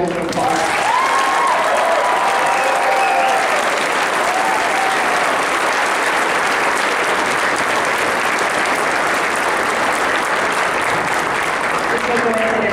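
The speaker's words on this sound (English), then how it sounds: "So please give them another round of applause." Sustained, dense applause from an audience at a high school concert band performance, loud and steady throughout with crowd texture and a few faint voices early on.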